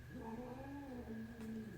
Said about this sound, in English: And I apologize for my growling cats.